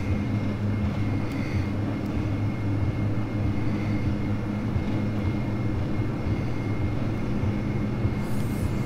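A Dash 8 Q400 turboprop airliner in a flight simulator rolls down the runway on takeoff as a steady, loud engine drone with a constant hum and no letup throughout.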